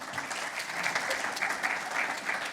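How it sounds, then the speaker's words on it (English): Audience applause in a meeting room as a team member comes up to present on private housing, a steady patter of clapping at moderate volume without pause. "A little bit of a round of applause for Jo, she's coming up"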